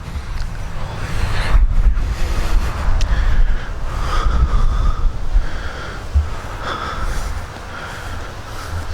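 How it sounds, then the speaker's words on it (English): Strong wind buffets the microphone outdoors beside an abandoned coastal railroad, a loud, continuous low roar with gusty surges throughout and no voice. "the wind's blowing 100 miles an hour, so hopefully you can hear me"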